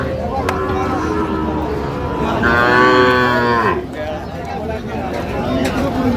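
A young bull calf at a rural cattle market gives one drawn-out moo of about a second and a half, heard over steady crowd chatter and market noise.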